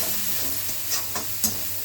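A tadka sizzles in a pan while a chappan kaddu sabzi is being cooked, a faint steady hiss with a few soft clicks and pops rising over it.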